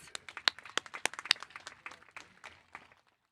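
Scattered claps from the audience at a Hueneme High School graduation ring out crisply, then thin and fade to silence within about three seconds.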